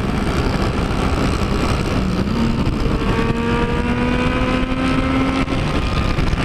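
Motorcycle riding in third gear, either a Yamaha MT-09 or a Honda XR 250 Tornado, with a steady loud engine drone and a rising whine as it pulls along, all under heavy wind rush with no talk.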